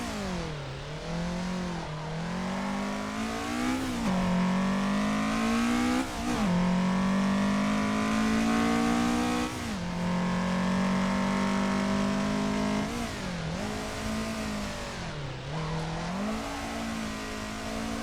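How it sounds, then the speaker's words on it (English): A race car engine in Assetto Corsa revs hard on a touge mountain road, pitch climbing through each gear and then dropping sharply on rough downshifts in a repeated rise-and-fall pattern, loud and alone. "God, those downshifts are rough. Almost locked the wheels up."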